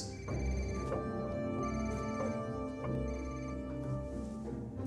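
A telephone bell rings continuously, its metallic tone steady and fairly loud throughout, with no voices over it.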